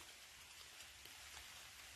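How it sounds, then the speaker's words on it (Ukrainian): Light but dense rain falls steadily outdoors near bushes, a continuous soft patter with no voices. "Дощ падає"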